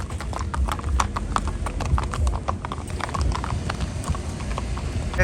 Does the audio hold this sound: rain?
no